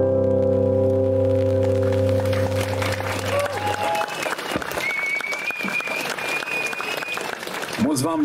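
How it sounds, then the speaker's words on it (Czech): Concert audience clapping enthusiastically, loud dense applause rising as a held musical chord ends and continuing for several seconds, with a voice and tonal sounds audible over it near the end. "děkuji za váš frenetický potlesk"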